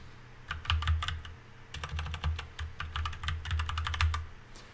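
A password is typed on a computer keyboard during NAS user setup: quick clusters of crisp, close keystrokes in uneven bursts with brief gaps, with no voices.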